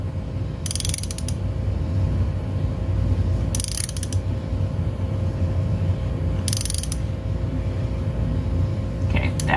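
A ratchet wrench clicks steadily while a spark plug is gently tightened on a 2011 Ford Fiesta, with short bursts of rapid metallic ratcheting repeating at intervals over a constant background hum.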